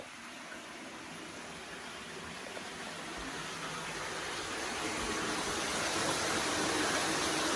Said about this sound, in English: Here's the Lost River.